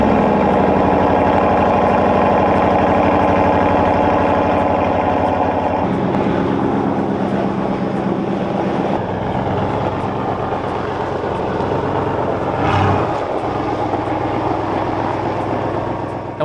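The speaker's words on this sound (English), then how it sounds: "The Ram Rebel GT also comes with a factory catback exhaust system, giving this thing a little bit more tone, a little bit more bite when you put the throttle down." A Ram 1500 Rebel GT pickup with a 5.7L Hemi V8 runs through its factory catback exhaust, giving a steady, loud, deep engine drone that shifts tone partway through with a brief swell near the end and no talking.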